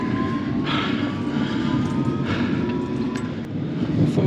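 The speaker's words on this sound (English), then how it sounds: "I'm on the train heading eastbound towards St James" A London Underground train runs eastbound with a steady, dense rumble and a hiss of wheels on the rails. Heard from inside the carriage, the noise stays constant throughout with no voices.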